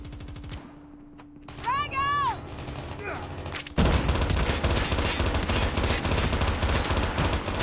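Automatic weapon bursts in the mobile shooter Call of Duty Mobile, rapid loud rattling fire that turns continuous after a brief lull, with game sound effects layered underneath.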